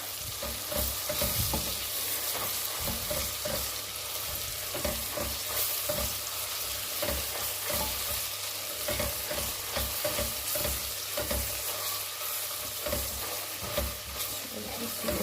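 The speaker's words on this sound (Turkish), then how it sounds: "Şimdi soğanlarla da kavuracağız" Tomato paste sautéing with onions in a pot for a dried meat and bean stew, a steady crackling sizzle broken by frequent stirring scrapes, close and fairly loud, with no speech.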